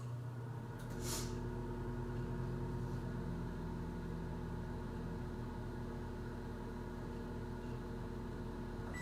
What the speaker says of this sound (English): let's melt this butter in the microwave